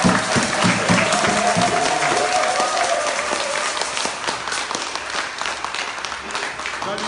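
A church congregation breaks into loud, sustained applause that fills the room with dense clapping. It gradually tapers off, with voices mixed in beneath it.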